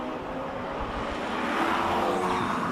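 A loud classic racing car engine roars steadily at a hillclimb event, its pitch shifting slightly as it drives past nearby, with no voices over it.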